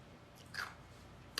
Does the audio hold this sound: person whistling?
no